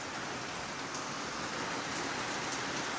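Heavy rain pours steadily outdoors, a dense, loud, continuous hiss of drops with no pauses and no voices.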